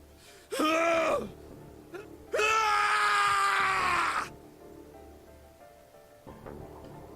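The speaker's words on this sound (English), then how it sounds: "His scream echoed through the incineration chamber, full of rage and despair." Two loud, strained screams ring out in a video game, a short one and then a long drawn-out one, followed by low rumbling ambience in an incineration chamber.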